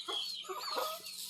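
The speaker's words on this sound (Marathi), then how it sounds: "आणि ह्या कोंबड्या खूप हावाव करत आहेत." Chickens eagerly pecking and eating garlic, several soft clucks and short calls in quick succession, close and moderately quiet with no talking.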